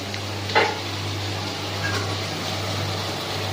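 Onions for pepper chicken sauté in a pan with a low steady sizzle, a brief stirring scrape near the start, over a constant background hum.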